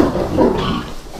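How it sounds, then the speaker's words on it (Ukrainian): Pigs and boars on a farm grunt in a short, close burst of low, rough snorting with no voices. "І свинки, і кабанчики."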